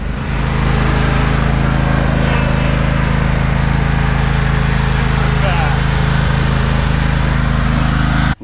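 A rescued John Deere lawn tractor engine runs loud and steady at high revs, a constant droning roar close by that cuts off abruptly at the end.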